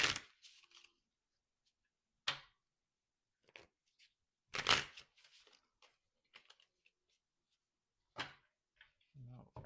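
Tarot cards being shuffled and cut by hand, heard as a few short, crisp riffles and slaps spread across a quiet room with long pauses between them.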